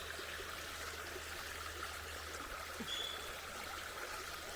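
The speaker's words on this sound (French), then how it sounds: "l'eau est fraîche et elle me dégouline dans le dos" Cool water trickles and runs down someone's back after being poured over their head, a steady, close, hissing flow with no talking.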